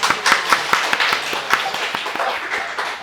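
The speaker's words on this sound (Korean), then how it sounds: "박수 칩시다." A group clapping together in a school setting, a steady run of sharp, fairly even hand claps lasting a few seconds at moderate loudness with no talk over them.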